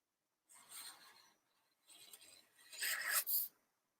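Pencil-like scratching and rasping strokes on sketchbook paper while drawing a small pig, in three bursts of rubbing, the last one louder and busier, with short quiet gaps between them.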